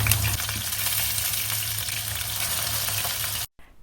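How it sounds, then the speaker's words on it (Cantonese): Potatoes pan-frying in oil for a Hong Kong-style braised chicken wing dish, giving a steady, close sizzle that runs loud and even for over three seconds before cutting off abruptly near the end. "然後繼續煎其餘每遍各2分鐘"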